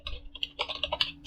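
Quick bursts of keystrokes on a computer keyboard while entering Python code, a close, crisp run of clicks in an uneven rhythm.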